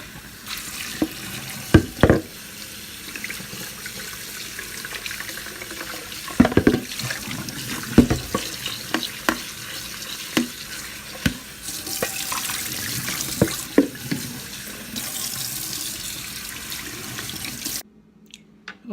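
Tap water runs steadily over marinated pork baking-soda-treated in a sink, a constant splashing hiss broken by clunks and knocks as the meat is handled, ending abruptly when the faucet shuts off.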